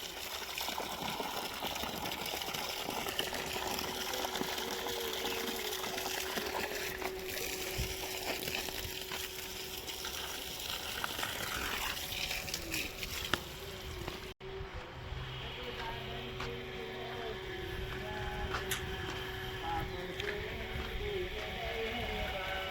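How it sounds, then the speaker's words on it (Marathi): Garden plants being watered during a dry summer, a quiet, steady stream of water splashing onto soil and leaves, briefly breaking off partway before carrying on. "मी घालतोय आता झाडांना पाणी."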